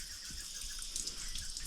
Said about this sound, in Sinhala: වතුර පාරක් වැටෙනවා